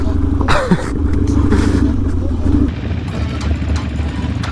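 A Harley motorcycle rides a dirt trail, its engine rumbling close and loud with clattering over rough ground, and people talk over it.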